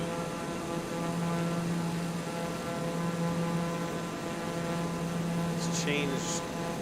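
A steady, faint aircraft engine drones in the Flight Simulator 2020 video game, a constant low hum with no change in pitch and no talk over it.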